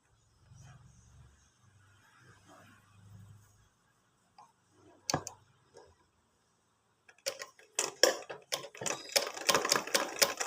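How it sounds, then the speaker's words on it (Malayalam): A sewing machine stitches a kurti's V collar: quiet handling and a faint voice at first, a few short whirs, then a run of rapid, close, rhythmic stitching bursts. "ഇനി നമുക്കിങ്ങനെ ഇതിൻ്റെ മുകളിൽ കൂടെ അങ്ങനെ സ്റ്റിച്ച് ചെയ്ത് ഇങ്ങനെ കൊണ്ടുപോകാം"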